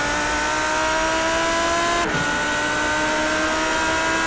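An iRacing race car powering out of the hairpin at Montreal, a loud steady engine drone holding a high pitch with a brief dip partway through, close onboard and with no voices.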